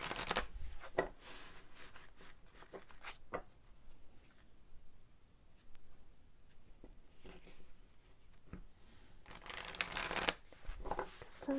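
A deck of tarot cards is shuffled by hand in close, crisp bursts of riffling and slapping, with quieter pauses between the flurries.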